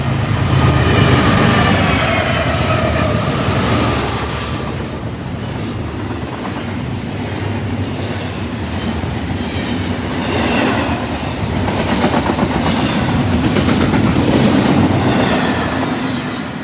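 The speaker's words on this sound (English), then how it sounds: "we have a CSX coming in" A CSX freight train rolls past near a train museum, a steady loud rumble of rail cars and wheels with clickety-clack rhythm swelling and easing over the full length, no talking.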